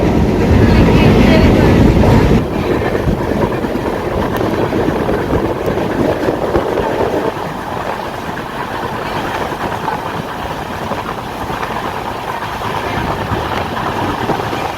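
Ratnagiri–Diva passenger train running through rain-soaked countryside near Mangaon, a steady loud rumble and rattle of the carriages, heavier for the first two seconds, then a continuous rolling drone.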